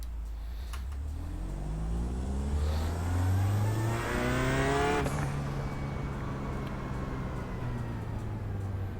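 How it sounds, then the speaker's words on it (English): A race car engine at Watkins Glen revs hard through the gears, its pitch climbing steadily before a sharp shift and then settling into a sustained drone. It is loud and close, with no talking. "sure you are revving that thing all the way out till you see the red up here."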